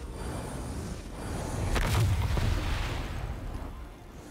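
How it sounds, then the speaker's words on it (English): A large explosion in a cooperative raid-style video game rumbles out as a deep, loud boom with a burst of crackling debris around the middle, set against steady background game noise. "That explosion will kill us all."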